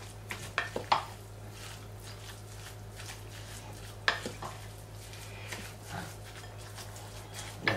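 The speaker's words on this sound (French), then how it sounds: "On va remuer tout ça et après on va former nos steaks hachés pour les burgers." Seasoned homemade minced meat for burger patties being stirred in a bowl, soft squelching strokes with a few sharp clinks of utensil on dish, over a low steady hum.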